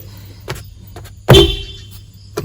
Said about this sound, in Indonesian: Ini masih bagus, klaksonnya masih bunyi, berarti baterai sepertinya aman.